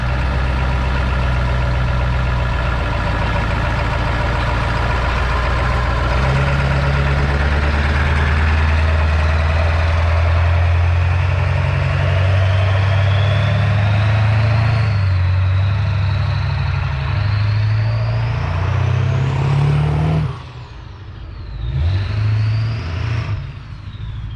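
A truck engine idles steadily after a cold start on a 60-degree day, a loud low rumble that shifts pitch and rises in revs, then dips and revs briefly near the end.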